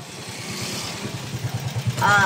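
A motorcycle engine idles with a low rhythmic putter, then revs up louder near the end.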